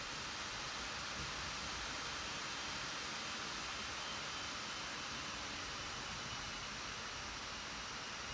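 Cooling fans of an MSI Creator Z16 HX laptop run at full power, a steady broadband whoosh like rushing air that holds even and unbroken throughout, fairly quiet and with no voices.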